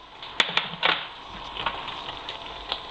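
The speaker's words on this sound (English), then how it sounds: "I then add my red pepper" Red peppers hitting a hot frying pan give faint crackling sizzle with a few sharp pops and ticks, a soft hiss underneath, close and fairly quiet.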